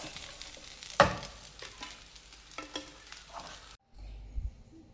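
Fish pieces for homemade idimeen frying in oil, a steady sizzle with scraping stir sounds and a sharp knock near the start, cut off abruptly before a short quieter tail.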